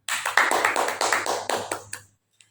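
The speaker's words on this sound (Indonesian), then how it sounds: "tepuk tangan buat kalian semua" A group of people in a school or classroom setting claps hands together in quick, close rhythmic bursts for about two seconds, then stops abruptly, leaving a single faint tap afterward.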